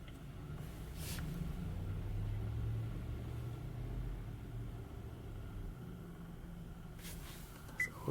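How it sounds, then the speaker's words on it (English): A car engine runs with a low, steady rumble at a quiet, even level, and a couple of faint clicks come near the end. "Now all you have to do is start up your car."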